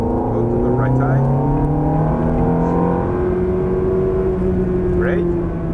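Race car engine pulling hard at full throttle, a loud sustained roar with rising pitch and occasional gear shifts, up close from inside the car while a co-driver calls out instructions over it.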